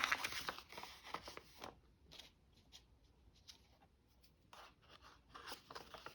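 Scissors snipping through paper and craft cardstock at a crafting table, a quick cluster of crisp cuts, then a pause and a few more snips, close and fairly quiet.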